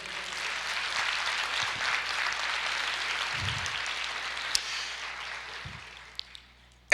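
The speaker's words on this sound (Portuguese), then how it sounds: "Você pode aplaudir o Senhor?" Church congregation applauding, a broad wash of clapping that holds steady and then fades out toward the end, with a few sharper knocks and thumps.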